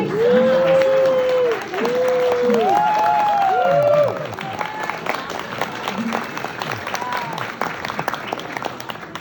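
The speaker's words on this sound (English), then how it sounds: "please applaud" Audience applause fills an award ceremony honoring a nonprofit housing advocacy group, loud and sustained before easing off, with a voice carrying over the clapping throughout.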